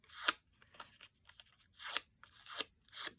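A bone folder creasing and folding the wings of a paper butterfly on a card gives a run of crisp, dry scraping and crinkling strokes, close and quiet, in uneven bursts with short gaps.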